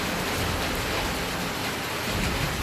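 Steady rain falls across the Kovilpatti area of Thoothukudi district during a cyclone, a dense, even hiss of downpour with no voices, constant and fairly loud throughout.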